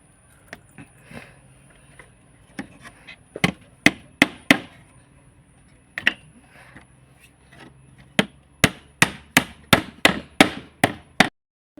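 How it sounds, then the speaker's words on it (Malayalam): Nails hammered into wood while building a Christmas crib, a run of sharp, close knocks, sparse at first, then a quick steady burst of about a dozen strikes near the end. No one speaks. "മുകളിലും താഴെയായിട്ട് ആണി അടിച്ചു കൊടുക്കണേ"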